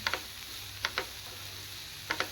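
Salted capsicum is stirred in a frying pan for capsicum mezhukkuvaratti, with a soft sizzle underneath and a few pairs of sharp spatula scrapes and taps against the pan, close and fairly quiet.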